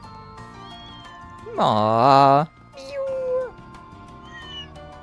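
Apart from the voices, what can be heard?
cats meowing in video game Trails Beyond the Horizon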